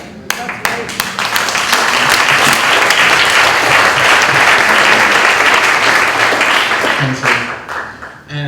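A large audience gives a panel on Black liberation and anti-racism a big round of applause, a few scattered claps swelling into loud, dense, sustained clapping before tapering off, with voices over it.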